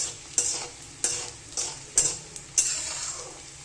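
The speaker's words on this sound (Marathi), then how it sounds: "आता हे इकडं तेल तापलं ना डिंक तळून घ्यायचं." Edible gum (dink) frying in hot oil in a pan, with a steady soft sizzle punctuated by regular scraping stirs from a spoon, close and without talk.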